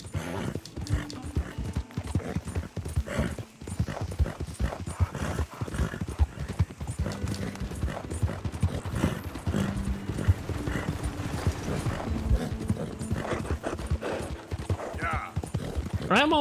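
Hooves clip-clop steadily as a horse moves along in Red Dead Redemption II, with occasional snorts and whinnies, while a voice talks over the sound.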